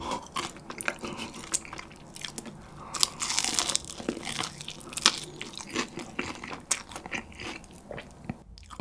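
Crispy Kyochon rice fried chicken is bitten and chewed up close, with repeated sharp, loud crunches and wet chewing in an irregular rhythm.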